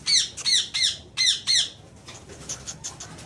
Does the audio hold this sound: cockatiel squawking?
yes